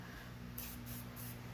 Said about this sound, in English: Now I'm going to spray my face with the Sweet Grace baking spray from Beautybakerie.